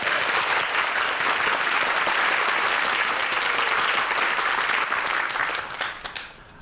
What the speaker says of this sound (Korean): 여러분 큰 박수를 한번 청해 들어보도록 하겠습니다